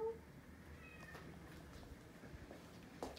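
A black cat meows softly indoors, a brief faint call near the start and another near the end over a low steady background, with a person's voice also present.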